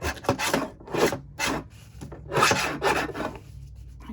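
A blade cuts down a paper masterboard in a papercraft setting, making rough rasping strokes in irregular bursts, close and fairly loud, with no talking.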